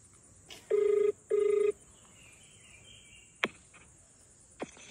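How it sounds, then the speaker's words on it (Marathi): Two short electronic ringback tones sound on a phone line, followed by a couple of sharp clicks over faint background hiss. "आता त्याच मॅटरसाठी आपण फोन लावतो विराजला."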